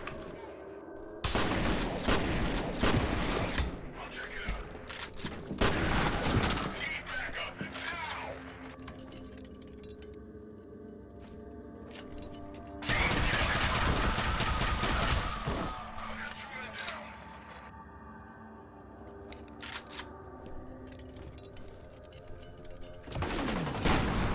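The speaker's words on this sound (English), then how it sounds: "I think this shotgun might be the best shotgun in any game ever." Shotgun blasts in F.E.A.R., loud broadband bursts coming in clusters around 1.5, 6 and 13 seconds, with mechanical clatter and quieter stretches of game ambience between them.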